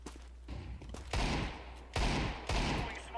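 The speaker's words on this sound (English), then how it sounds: "Deploying flashbang" Grenade blasts in a tactical shooter game ring out as three sharp, loud bangs, each followed by a brief fading tail, spaced roughly a second apart.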